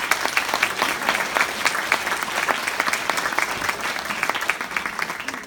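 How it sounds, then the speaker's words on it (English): An audience at an AAUW California Fund 2019 event honoring Legacy Circle members breaks into sustained applause, a dense, steady wash of many hands clapping with no voices rising above it. "will you please give them a round of applause?"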